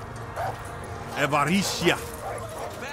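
Dog in the video game Far Cry 5 gives a few close yips and whimpering barks amid continuous voices talking.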